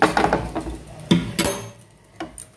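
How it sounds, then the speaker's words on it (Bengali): A karahi wok set back down on a home stove makes several metallic clanks and scrapes up close, the loudest bumps near the middle and a light knock at the end. "আমি এবার এটা নাবিয়ে আবার ওই কড়াটাই বসিয়ে দিচ্ছি"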